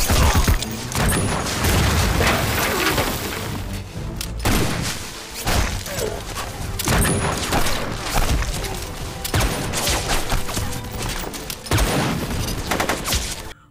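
Gunfire in an action film scene with snipers and guards, loud bursts of shots, booms and clattering impacts in rapid dense volleys broken by brief lulls.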